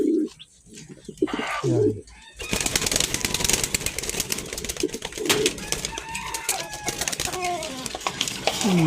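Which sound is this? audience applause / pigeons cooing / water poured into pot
pigeons cooing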